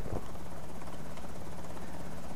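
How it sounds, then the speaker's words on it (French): Helicopter rotor chop in the game Project Zomboid thrums steadily in the background, a fairly faint, continuous whirring drone with no talking. "Ah bah c'est l'hélicoptère qui choisit son moment lui."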